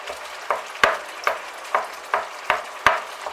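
Whole canned peeled tomatoes, juice and all, stirred and smashed in a sizzling pan for goulash pasta: about eight regular scraping strokes over a soft, steady frying sizzle, close and clear with no talk.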